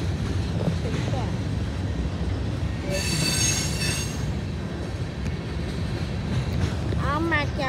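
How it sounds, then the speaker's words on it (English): A grain freight train rolls past close by with a steady heavy rumble, metallic wheel squeals rising near the end, and voices talk faintly underneath. "I'm not counting the grain train."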